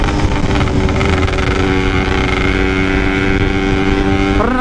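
Yamaha RX-King two-stroke motorcycle engine running loud and close, a buzzy steady drone that climbs in pitch at the end as the throttle opens.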